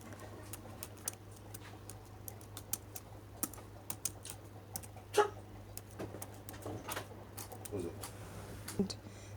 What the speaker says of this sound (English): You type in your objective.